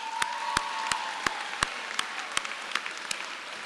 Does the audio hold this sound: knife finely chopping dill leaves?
no